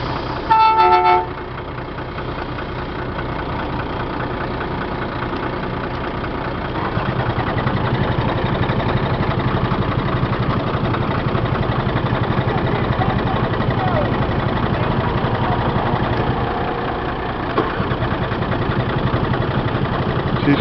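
A box truck with a refrigeration unit turns over with a short rough burst, then settles into a loud, steady, rumbling idle close by.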